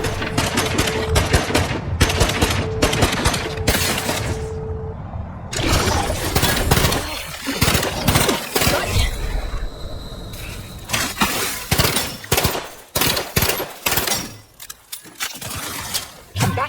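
Rapid gunfire and shattering impacts from a firefight in the video game The Outer Worlds 2, dense overlapping bursts of shots filling the scene with brief gaps, loud and close.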